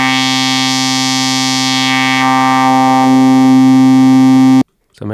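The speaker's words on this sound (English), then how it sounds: "So I turned the middle frequency up and then sweep the frequency." A Boss Metal Zone MT-2 distortion pedal with its middle frequency boosted and swept like a filter makes a loud, sustained, buzzing harmonic drone whose tone shifts as the sweep moves. It cuts off abruptly near the end.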